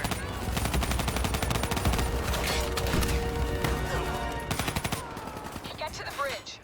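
Rapid automatic gunfire and dense single shots crackle almost nonstop in a Call of Duty: Black Ops III combat mission, loud and close, with bursts thinning near the end amid battle noise.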